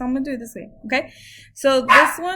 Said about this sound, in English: sorry, I apologize for my dog barking.